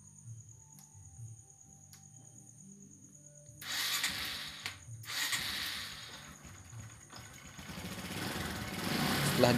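A Honda Supra X 125 motorcycle engine cranks and catches after a quiet start, then idles and revs with a rising, rattly mechanical roar, close up and growing louder toward the end.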